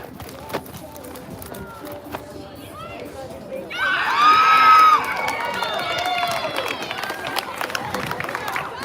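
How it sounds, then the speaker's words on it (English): Spectators scream and cheer at a tense college beach volleyball championship match, a loud burst of crowd shrieking and whistling that swells midway and then carries on as a dense, excited roar. "Over in the three pairs, there's a lot of screaming."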